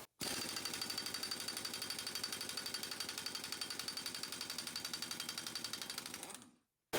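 An air impact wrench run off a tiny compressor hammers at a nut on a Harley Street 500, a loud, close, rapid stream of even rattling blows lasting about six seconds before cutting off.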